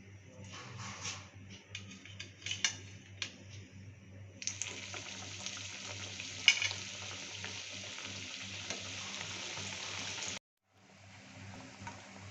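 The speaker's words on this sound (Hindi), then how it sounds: "इन फ्लावर्स को हमने डीप फ्राई करना है, शैलो फ्राई नहीं करना" Potato flowers deep fry in oil over a slow flame, a steady close hiss and bubble with occasional clinks, running alone and stopping abruptly near the end.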